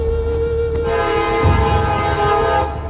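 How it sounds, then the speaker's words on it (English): Train passing some distance off in Marietta, Georgia, its horn sounding a long, loud, sustained tone over a steady rumble of wheels and cars. "what you can hear in the distance is that train that still come across these areas"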